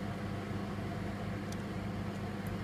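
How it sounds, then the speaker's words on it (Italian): A microwave oven hums steadily while meringue cooks inside, a constant low drone with broadband noise and no talk over it. "Spero non mi esploda il microonde."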